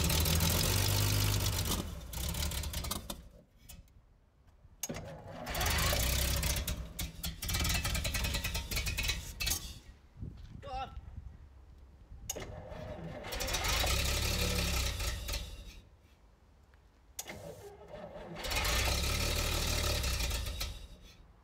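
An old Daimler Ferret armoured car engine that hasn't run in over a decade, running lean and backfiring out of the carburettor, loud rough running that surges and dies away in repeated bursts with pauses between.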